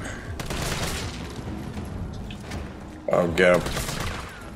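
Gunfire in the video game Resident Evil 3, a close burst of rapid shots that follows loud, excited talking from players.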